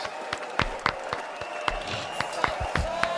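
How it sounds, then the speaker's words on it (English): Audience applause at a live show, with sharp individual claps and snaps standing out over a busy crowd murmur, moderately loud and fairly close. "let's give another round of applause"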